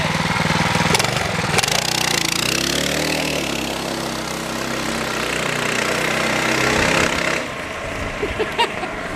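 A stock 212 go-kart engine revs hard, climbing to a loud high-RPM roar that holds for several seconds before dropping back toward idle.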